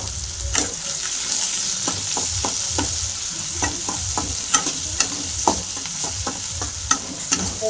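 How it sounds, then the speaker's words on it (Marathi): Onion and tomato fry in a hot pan for a spicy dry chicken dish, a continuous loud sizzle broken by repeated scrapes and clacks of a spatula stirring through the mixture. "कांदा टमाटा टाकून चांगलं तळून घ्यायचं"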